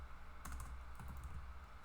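Keys tapped on a computer keyboard while typing a command into Rhino 3D modelling software, a short cluster of soft close clicks over a steady low hum, no voices.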